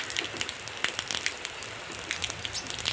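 Monsoon rain pouring down outdoors in the morning, a quiet, dense patter with sharper drip ticks scattered through it, continuous and without any voices.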